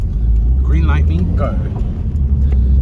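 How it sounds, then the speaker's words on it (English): The tuned 2-litre flat-four of a 17-year-old Subaru WRX STI drives gently while cold, a steady deep in-cabin rumble running throughout beneath a man's brief speech. "I'm making pollution through my highly tuned 2-litre flat 4 sports engine at the moment"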